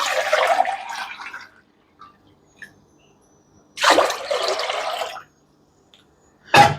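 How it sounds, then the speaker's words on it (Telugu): Water pours from a glass into a pan for sugar syrup in two separate bursts, each splashing for about a second or so, then a short final splash near the end. "ఈ గ్లాస్ తోటి 2 గ్లాసులు నీళ్ళు పోస్తాను"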